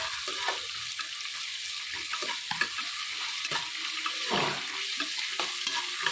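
Sliced onion and three green chillies sautéing in a pan for chicken biryani, a soft continuous sizzle broken by scraping and stirring strokes at an irregular pace, moderately quiet with no talking.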